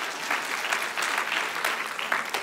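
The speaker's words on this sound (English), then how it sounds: "Because you all clapped." An audience at a church service claps in a steady, dense round of applause that fills the whole stretch at moderate volume.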